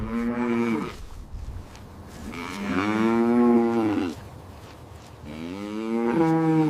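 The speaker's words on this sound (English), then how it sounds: "It's a cow." A cow moos three times, each a long, loud, nearby call with a rising and falling tone, separated by short pauses.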